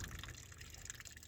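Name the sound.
coolant water draining out of a truck engine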